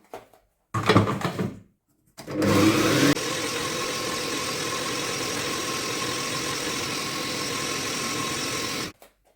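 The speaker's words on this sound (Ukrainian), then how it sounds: "Далі беремо 1 кг солодкого перцю, також перемелюємо." An electric grinder mincing 1 kg of sweet peppers runs as a loud, steady motor whir for several seconds, preceded by two shorter bursts and cut off abruptly at the end.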